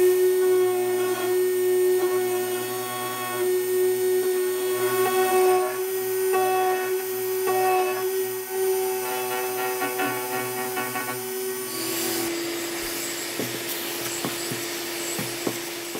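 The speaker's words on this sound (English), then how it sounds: "I'll do a couple of plunge cuts." A router makes plunge cuts into the saddle slot of an acoustic guitar, a loud steady motor whine with changing rubbing and cutting noise that turns rougher toward the end, heard close up with no one speaking.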